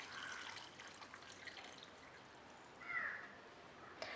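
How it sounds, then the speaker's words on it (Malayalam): Boiling water poured over dried mango for a pickle, a faint soft trickle and splash running quietly throughout, with a slightly louder pour near the end. "ഞാനിപ്പോൾ 1 ഗ്ലാസ് തിളച്ച വെള്ളം ചേർത്ത് കൊടുക്കുകയാണ്"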